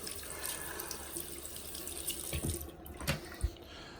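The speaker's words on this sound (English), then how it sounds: "Now this faucet does not have great pressure." Water runs from a weak, low-pressure bathroom faucet in a small bathroom, a steady close hiss of flow with a couple of brief splashy knocks near the end, no voices.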